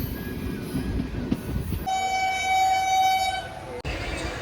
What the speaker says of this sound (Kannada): ನಮ್ಮನ್ನೀಗ ಓವರ್ಟೇಕ್ ಮಾಡೋಕ್ಕೆ ಬಂದೇ ಬಿಟ್ಟ ನೋಡಿ ಮದ್ದೂರಲ್ಲಿ. ಇದು ವಂದೇ ಭಾರತ್ ಎಕ್ಸ್ಪ್ರೆಸ್